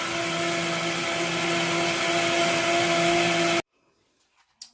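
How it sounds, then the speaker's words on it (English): A blender whirs loudly and steadily at high speed for about five minutes, then cuts off abruptly, leaving near silence with a couple of faint clicks. "I blended this for about 5 minutes or so"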